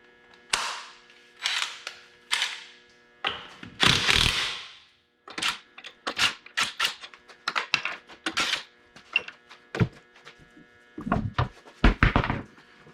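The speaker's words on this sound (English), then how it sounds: "I used my DeWalt impact" A DeWalt 7/8 cordless impact wrench removes lug nuts on a 2011 Camaro SS during a front brake job, firing in a string of short, loud rattling hammer bursts with brief gaps between them.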